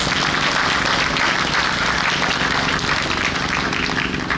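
A crowd at a Hmong National Labor Day Eve speech event gives sustained, loud applause for unpaid laborers, a dense continuous roar of clapping with no voices.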